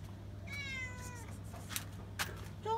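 A cat on a tropical island meows softly nearby, a drawn-out call followed by a couple of short meows, over a steady low hum.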